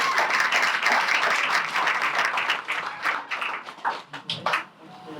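An audience at a live debate show applauds, a dense, loud round of clapping that thins out into scattered claps toward the end.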